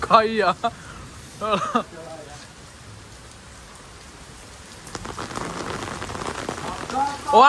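Steady rain patters and hisses in the background as voices talk briefly at the start and end.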